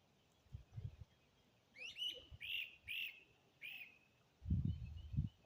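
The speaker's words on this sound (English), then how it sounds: "I like hearing the birds chirp." Birds give a few short whistled chirps outdoors, quiet and spaced apart, over faint background noise with soft low thumps or movement sounds before and after.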